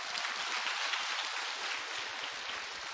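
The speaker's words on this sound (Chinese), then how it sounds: "鼓掌" Audience applause at a Los Angeles spiritual radio programme, a steady dense clatter of many hands clapping together, loud and continuous throughout with no voices over it.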